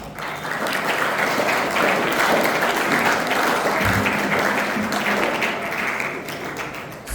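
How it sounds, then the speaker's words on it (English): An audience at a school inter-house speech and debate competition claps in a steady, even round of applause that lasts several seconds and fades out at the end. "round of applause"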